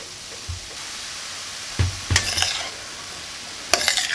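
Vegetables sizzle in a pan under a steady frying hiss. A few brisk stirring and scraping bursts of utensil against pan break in, with no voices.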